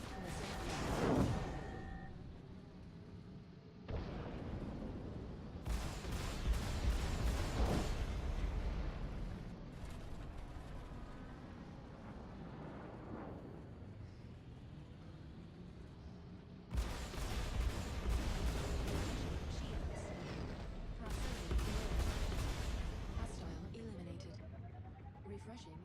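Missile launches and explosions during a Star Citizen Arena Commander space dogfight, heavy booming bursts that come in a few waves amid a rumbling background, with someone talking over much of it.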